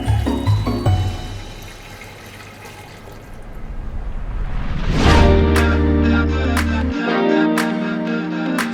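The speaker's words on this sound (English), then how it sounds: "So we put it inside the pot, and then we'll add water." Water pours into a pot holding a pig's head being prepared for Filipino sisig, a rushing fill that swells to a louder splash midway and then settles into a steady stream, with a few sharp clinks.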